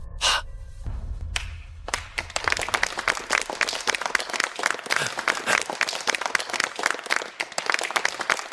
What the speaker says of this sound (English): Why is everyone clapping with him?